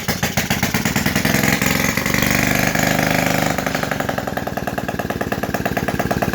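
A Honda engine fitted in a small vehicle runs with no muffler attached, producing a loud, raw, rapid popping rumble close by that rises briefly in pitch and then settles into a steady, choppy idle.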